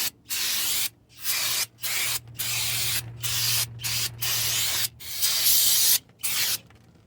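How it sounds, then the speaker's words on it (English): Brake cleaner sprayed onto the front brake rotor of a 2004–2006 Toyota Sienna, loud hissing aerosol bursts in about eight repeated blasts of varying length, separated by brief pauses, close up. "Brake cleaner."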